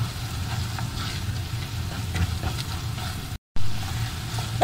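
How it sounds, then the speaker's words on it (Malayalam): Pork sautéing in a pan with garam masala and pepper powder for pork chops, a low steady sizzle with faint stirring scrapes running continuously, broken by one brief dropout near the end. "ഗരം മസാല, കുരുമുളക് പൊടി, ഇതും കൂടി ചേർത്ത് വഴറ്റിയെടുക്കാം"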